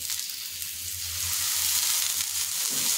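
Thalipeeth flatbread topped with sesame seeds fries in a little oil on a pan, giving a continuous close hiss that grows slightly louder toward the end.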